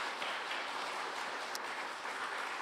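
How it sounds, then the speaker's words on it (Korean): A church congregation claps for the volunteers who made kimchi during an Advent Sunday service, producing a steady, fairly quiet wash of applause that holds evenly throughout. "김장하신 분들 우리 박수 한번 주실래요?"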